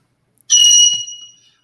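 A single loud, piercing electronic-sounding beep from a bird, sustained for about half a second before fading out.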